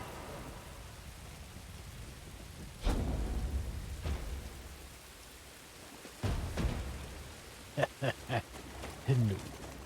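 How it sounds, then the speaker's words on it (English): Steady rain in the video game Jedi: Fallen Order, a continuous wash of falling water with occasional low thunder-like rumbles and sharp bursts, and a voice speaking over parts of it. "it is still raining on that side."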